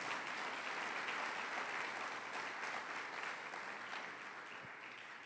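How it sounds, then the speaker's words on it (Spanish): A church congregation applauds together in a dense, sustained wash of clapping that holds steady and begins to fade slightly toward the end, heard from within the room. "Denle un fuerte aplauso al Señor."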